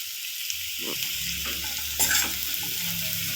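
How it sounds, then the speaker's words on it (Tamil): Mushrooms and cashews sauté in a hot pan for cream of mushroom soup, a steady close sizzle with a few scraping stirs and a brief louder burst of frying near the end. "நல்லா வதக்கி விட்டுக்கலாம்"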